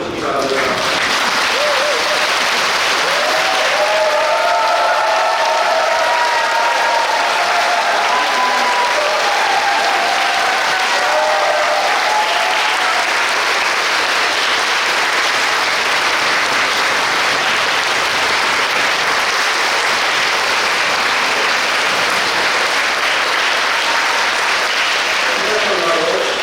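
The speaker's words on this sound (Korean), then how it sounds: "신부님께서 나오시면 모두 일어서시며 큰 박수로 환영해 주시기 바랍니다" Sustained, loud applause from a standing church congregation welcoming their retiring parish priest at his farewell ceremony, dense steady clapping that continues throughout with a faint murmur of voices beneath.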